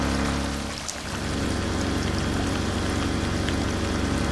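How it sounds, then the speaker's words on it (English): Pump sucking flood water on a flooded farm in the video game Drain Sim: a loud, steady, rushing water flow with a dense gushing texture and a low mechanical drone underneath, briefly dipping near the start before holding constant. "That's sucking the water out of there."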